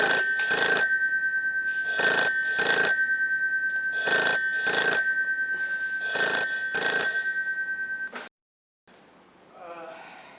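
A landline telephone rings loudly in four double bursts with short pauses between, then cuts off, followed by a faint rustle.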